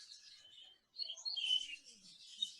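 A budgerigar chirps and warbles in soft, quick bursts of high twittering song, fairly faint and close, with short pauses between phrases.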